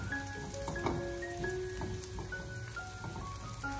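Garlic slices and small chili peppers stir-frying in hot oil over low heat in a wok, a steady close crackling sizzle with light scattered pops and faint clinks.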